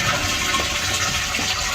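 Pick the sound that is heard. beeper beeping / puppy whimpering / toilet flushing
toilet flushing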